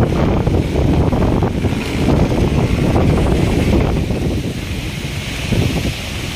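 Strong wind buffets the open seafront of Manila Bay during heavy rain, with rough water churning and a steady roar of gusts rumbling close on the microphone throughout.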